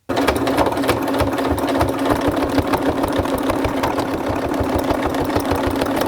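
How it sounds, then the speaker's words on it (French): Sewing machine running steadily while stitching a holding seam 5 mm from the edge of a small fabric teddy bear soft toy, a continuous close mechanical whir with rapid needle rhythm throughout, no talk. "je vais venir faire une couture de maintien à 5 mm du bord"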